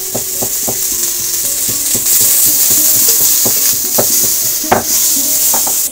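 Pieces of pointed gourd frying in mustard oil give a continuous close sizzle, broken by irregular clinks and scrapes as a spatula stirs them around the pan; no voices.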